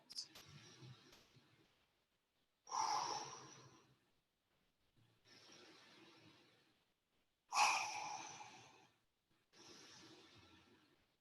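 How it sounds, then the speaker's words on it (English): Deep, slow breathing during a yoga stretch session, with long audible inhales and exhales in a steady rhythm, about five breaths, close and fairly quiet with no talking. "Maybe deepening the breath a little bit."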